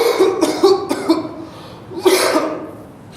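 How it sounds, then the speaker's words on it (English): A person coughs hard in a cluster of several harsh coughs, then coughs again after a brief pause, close and loud. "Your cough is very bad."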